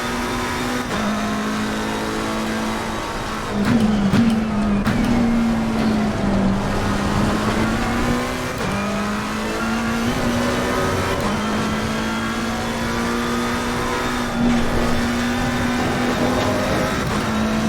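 Ferrari race car engine lapping Bathurst in a racing video game, a loud sustained drone with small rises and dips as the revs shift, heard steadily for the whole stretch without talk.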